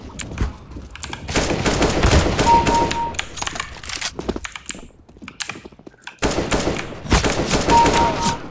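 Rapid gunfire in CS:GO, with sharp single shots and quick bursts landing close and loud, separated by a brief lull before another volley, with no talk over it.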